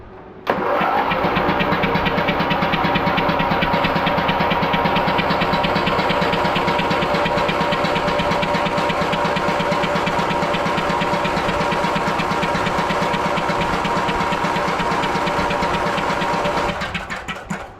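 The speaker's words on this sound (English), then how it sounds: "We're going to crank it and make sure I got fuel coming out." A car engine cranks continuously for around sixteen seconds during a fuel pump check, a loud, close, rhythmic starter churn that never catches, then cuts off abruptly.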